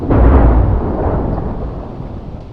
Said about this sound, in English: Thanks, Thunder.